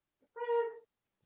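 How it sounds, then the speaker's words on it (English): A house cat lets out a single short, clear meow, close and fairly soft, in an otherwise quiet room. "It is the kitties. I've got kitties."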